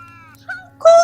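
An actor in a class 11 school play gives a short voiced imitation of a cat's meow, a brief rising cry that closes a quiet stretch after a low steady hum and faint murmuring.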